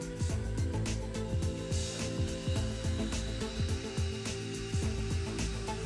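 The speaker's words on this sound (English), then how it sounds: "The teeth are cleaned with toothpaste and polished with a rubber cap polishing tool" Dental rubber cup polishing tool spinning against teeth with toothpaste, a quiet continuous whirring hum broken by rapid, irregular scraping ticks.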